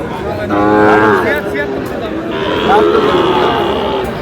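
A Sahiwal bull calf moos loudly and close by at a busy cattle market in Chattogram, with long harmonic calls in two bursts over steady crowd noise and nearby talk.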